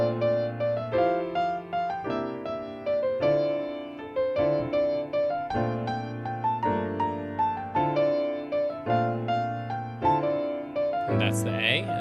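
Piano plays a rich progression of broken chords with added sevenths and ninths in rolling arpeggiated patterns, close and full for about twelve seconds, ending with a brief extra noise.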